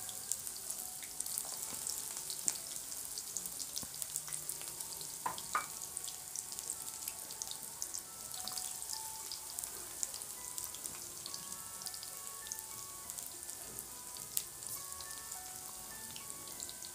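Coriander leaf pakoras fry in hot oil, making a soft, continuous crackling sizzle with scattered pops over a long stretch, fairly quiet and free of talk.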